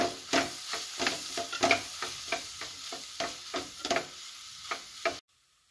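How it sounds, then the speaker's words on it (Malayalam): A spoon stirs chilli and spices in a frying pan for vegetable macaroni, giving a quick series of scraping strokes over a soft sizzle, close and steady, before stopping abruptly. "ഇനി ഇതൊന്ന് ഇളക്കി കൊടുക്കുക"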